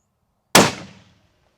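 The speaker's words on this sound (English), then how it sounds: "I'm okay if the first shot misses" A single sharp crack from a Ruger Predator 6.5 rifle rings out outdoors, with a short decaying echo trailing off after the shot.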